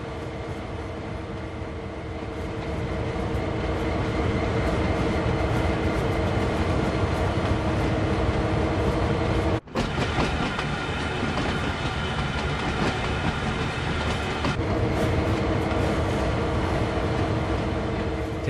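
A train hauling tank wagons rolls along a branch line in a train simulator game, a steady, loud rumbling drone with faint rhythmic clatter, briefly cut by a short dropout midway.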